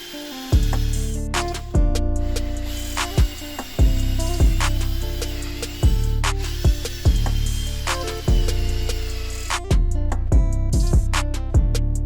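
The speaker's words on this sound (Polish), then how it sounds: "A teraz nawiercam otwory w podstawie na te pręty" A drill boring holes into a wooden tree-slice lamp base, with repeated short, loud mechanical bursts separated by brief pauses, close and with no talk.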